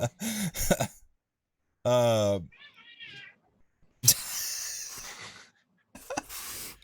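Two cats fight under a desk, letting out a long wavering yowl and harsh hisses in short bursts, heard close and loud between stretches of quiet.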